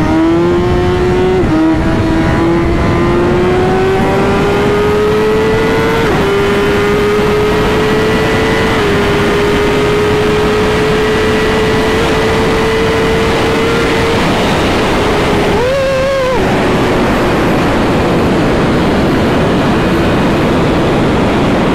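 A BMW S1000RR motorcycle accelerates hard through the gears, a loud, close, high-pitched engine note rising steadily with brief dips at each shift and a sharp rev spike near the end, with wind noise and no voices.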